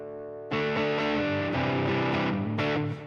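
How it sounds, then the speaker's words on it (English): Electric guitar played through an AionFX Stratus, a PCB clone of a TS808 overdrive pedal with clipping and tone-cap toggle mods, on its legend setting: loud, saturated sustained chords with a fuzz-like edge, ringing alone. "Almost gets on the verge of like a distortion, almost like a fuzz-like pedal."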